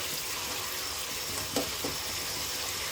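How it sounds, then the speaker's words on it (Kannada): Fenugreek leaves fry in oil in a wide pan, giving a steady, soft sizzle with a faint stir or scrape partway through. "ಮೆಂತ್ಯ ಸೊಪ್ಪು ಹಾಕೊಂಡ್ಮೇಲೆ ಚೆನ್ನಾಗಿದ್ದೀನ ಫ್ರೈ ಮಾಡ್ಕೊಳ್ಳೋಣ"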